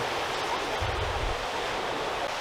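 Ocean surf washing in steadily at Echo Beach in Canggu, Bali, a continuous broadband roar with low rumbling swells, wind buffeting the microphone, no voices.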